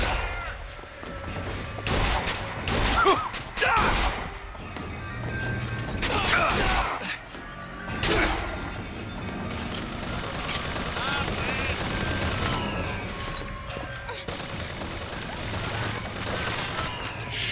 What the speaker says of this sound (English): Shooting at the wall.